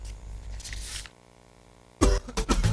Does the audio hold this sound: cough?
yes